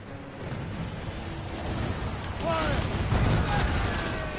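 Ship cannons boom in a video game naval battle, with rumbling blasts that build louder toward the end over a continuous background din.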